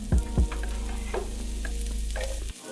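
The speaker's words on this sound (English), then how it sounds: "Oil in the pan and get the veg in." Diced fennel and thinly sliced shallots hit hot oil in a pan, giving a near, continuous sizzle with a couple of sharp clatters at the start and a low steady hum beneath, cutting off abruptly at the end.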